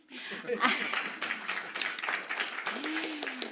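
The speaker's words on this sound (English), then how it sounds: "Round of applause." An audience at a city council meeting gives a round of applause for community emergency response team graduates, a scattered, moderate clapping that builds and carries on under a speaking voice.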